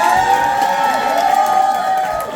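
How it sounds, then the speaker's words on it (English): An audience cheers loudly with whoops and sustained crowd noise, a dense, close wash of voices that holds for a couple of seconds and fades slightly at the end. "Let's give Ms. Webb a round of applause"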